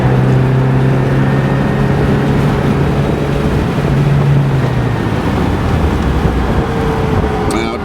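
A Ferrari 308 GTS engine drones steadily while the car drives. The tone is loud and close, mixed with heavy wind and road rush, and the level stays roughly even.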